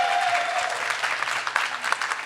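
An audience applauds at a talk in Duluth about managing emotions around politics, with steady, dense clapping that fills the whole stretch at an even level and no voices over it.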